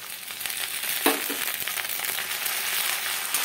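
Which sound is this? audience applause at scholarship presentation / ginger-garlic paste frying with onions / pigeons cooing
ginger-garlic paste frying with onions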